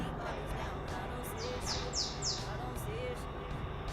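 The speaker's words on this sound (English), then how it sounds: "The birds are happy today." Outdoor birds chirp in short, repeated descending tweets, moderately close, under a steady low background hum, with someone speaking at times over them.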